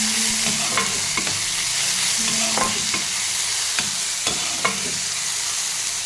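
Onions, green chillies and tomatoes stir-frying in a pan make a loud, continuous sizzle, broken by repeated scraping stirs and clacks of a spoon at irregular intervals, with no talking.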